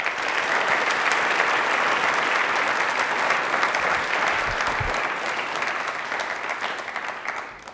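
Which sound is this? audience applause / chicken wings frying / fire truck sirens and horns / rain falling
audience applause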